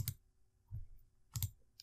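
Mouse clicks at a computer while working in report software, three sharp separate clicks spaced across under two seconds, close and fairly quiet with no talk.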